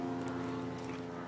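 An airplane passing overhead, a steady droning engine hum with a strong low tone, loud and unbroken throughout.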